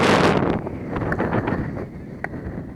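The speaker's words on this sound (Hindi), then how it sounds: "यहाँ पर हवा जो है वो काफ़ी तेज़ चल रही है।" Strong wind buffeting the microphone at an outdoor cricket ground, a loud rushing roar at first that eases into gusty rumbling, with a few faint clicks.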